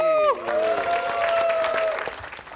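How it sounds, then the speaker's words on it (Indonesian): A studio audience at an Indonesian evening TV talk show applauds in a dense, steady burst of clapping that follows a sustained tone and carries on through the clip, with faint voices mixed in. "Berikutnya kita berikan tepuk tangan untuk Aji."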